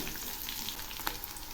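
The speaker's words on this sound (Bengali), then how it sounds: "এগুলি আবার একটু নেড়ে দিচ্ছি।" Onion, garlic and slit green chillies sizzle in hot oil while being stirred, a steady close frying crackle with a sharp spatula scrape near the middle.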